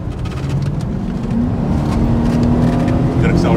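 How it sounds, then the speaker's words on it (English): A 1986 Mercedes-Benz 560SL accelerating through its automatic gears, a steady, rising engine drone heard from inside the cabin with a faint whine layered on top. "Alright, so we're just going through the gears."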